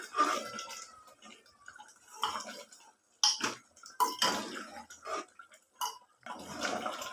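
A spoon repeatedly scrapes and taps a pan as spices go into a Punjabi-style mutton kosha gravy. The stirring comes in irregular bursts of clatter with short quiet gaps.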